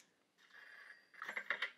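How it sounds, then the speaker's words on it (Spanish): Telephone ringing inside a virtual reality video game, a faint electronic trill that starts softly and swells into a few brighter repeated rings, with no one speaking over it. "teléfono sonando"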